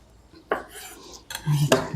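A knife slices through tomatoes on a board for zucchini caprese, a few short separate cuts and clinks heard close and alone.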